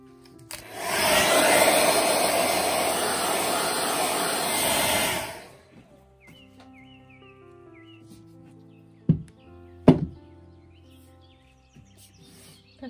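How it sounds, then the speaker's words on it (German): A hair dryer blows on the clay edge inside a plaster mold, a loud steady roar for about four seconds that then cuts off, followed by a few quiet knocks. "Jetzt föhnen wir den Rand zwischen der Gipsform und dem Ton."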